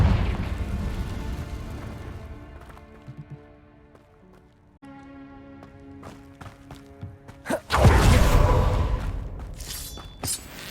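In Hogwarts Legacy, a Confringo fire spell bursts into a sudden loud explosion after a stretch of soft tonal game music and small thumps, and its blast roars and then gradually dies away.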